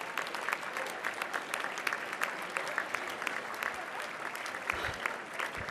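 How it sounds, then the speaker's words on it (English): Steady, dense applause from an audience at a bar association installation ceremony, sustained clapping throughout with no gaps, moderately loud and close. "Please give them a big round of applause."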